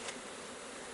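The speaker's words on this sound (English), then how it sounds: "Give these bees a little bit of a puff." Honeybees from a newly delivered nuc buzzing in a dense, continuous drone, close and steady, with no voices.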